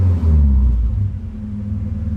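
Nissan 240 engine held at launch-control revs as the clutch drops, a loud, steady low rumble that dips slightly then holds a buzzing drone close by, with no talking.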